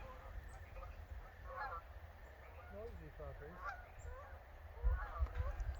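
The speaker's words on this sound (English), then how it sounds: "The geese are flying over." Flying geese honk repeatedly overhead at middling distance above steady outdoor background hiss and low rumble, in a garden with an asparagus row nearby.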